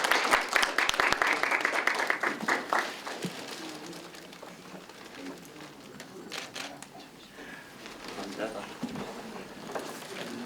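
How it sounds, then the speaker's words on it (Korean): Applause from an audience at the 2020 Halla Ilbo new-year literary award ceremony, a dense burst of clapping at first that thins into scattered claps with voices murmuring through the hall. "여러분 다시 한번 축하의 박수 크게 부탁드립니다"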